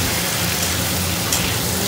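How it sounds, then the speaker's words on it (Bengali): Meat being sautéed (koshano) in a pan for a Bengali home-cooked curry gives off a steady, close sizzling hiss with no pauses, and no one speaks over it. "মাংস কষানো"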